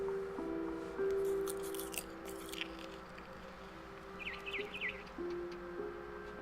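Faint barn swallow chirps in a video game, a few quick high calls, over a steady hum with some clicks and rustling nearby; no talking.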